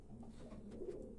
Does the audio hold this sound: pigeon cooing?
yes